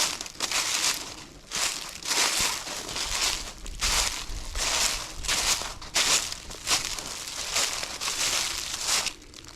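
Footsteps walk steadily through woods on a property, crunching and crackling over dry leaves and brush in a regular rhythm, close and clear.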